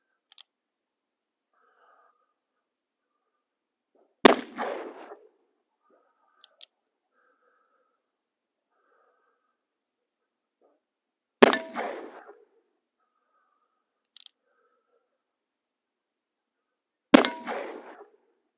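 Wells Fargo revolver fired at a target, three sharp, loud shots spaced several seconds apart outdoors, each with a short ringing tail, plus a few light mechanical clicks in between.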